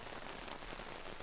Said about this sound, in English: Outside, the rain has not stopped.